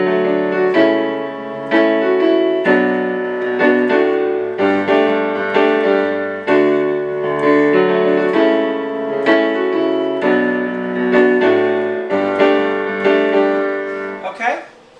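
Solo piano plays the opening of a piece, a steady run of sustained chords and melody notes with a gentle, even pulse, close and clear, with no voices, fading on a final note.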